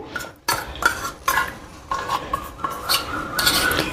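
Gram flour roasting in ghee for Adadiya Pak (lachko) is stirred in a pan, with metal spoon scrapes and clinks in uneven bursts over a faint sizzle, close by and without talk.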